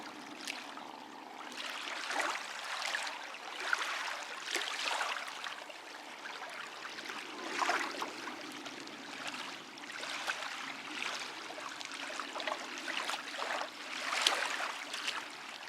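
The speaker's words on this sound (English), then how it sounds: "enjoy the waves coming in, and listen to that beautiful sound" Waves roll in on a beach, soft recurring washes that rise and fall every couple of seconds, gentle and moderately distant, with no talk.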